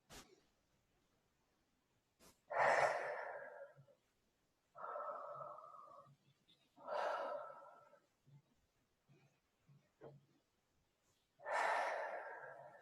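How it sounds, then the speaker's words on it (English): Slow, deliberate breaths close by in a quiet room, four or five long inhales and exhales with silent gaps between them and faint small sounds in the pauses, no talking. "So go ahead and breathe."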